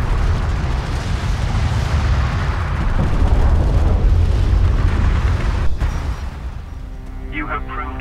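Artillery fire support in Homeworld: Deserts of Kharak rumbles as a dense, continuous barrage of loud booming explosions, easing slightly toward the end as faint music-like tones enter.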